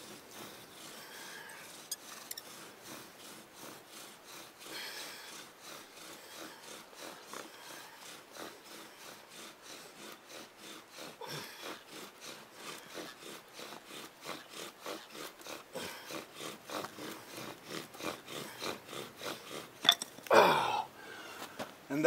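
A wooden spindle is drilled back and forth against a wooden block to start a friction fire, making a long series of fast, rhythmic scraping strokes that grow louder and quicker toward the end.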